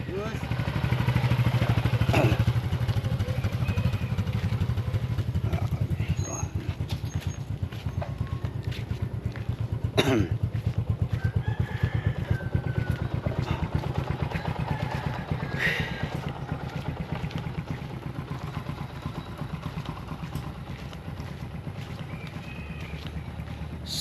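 Motorcycle exhaust running steadily for the whole stretch, a low continuous engine drone with occasional clatter and faint background sounds, loudest in the first few seconds.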